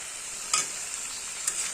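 Spices being stirred into a vegetable curry in a pan give a soft, steady sizzle, and two brief scraping sweeps of a spoon rise above it, one early and one near the end.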